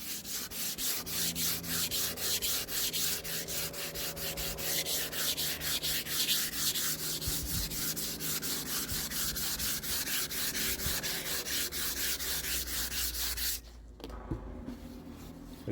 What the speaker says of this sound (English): Just a light sand just to get some abrasion here.